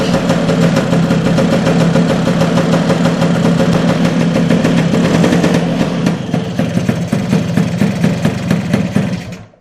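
Lambretta Li150 scooter engine running with the choke on, a loud steady mechanical drone that falters and dies away near the end.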